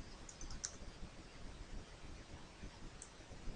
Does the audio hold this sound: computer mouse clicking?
yes